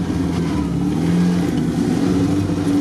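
A 1950 GAZ-67 off-road car's engine running at a steady low idle-to-cruise drone, close and continuous with no speech.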